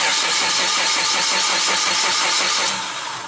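A 2010 Suzuki SX4 with a crankshaft sensor fault and a swapped engine cranks steadily without catching, the starter churning in a fast, even rhythm for about three seconds before the sound drops away.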